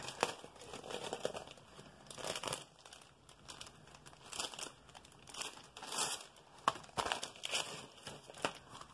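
Crinkly plastic packaging being opened, with sharp irregular crackles and rustling bursts, fairly close but quiet, and no talk.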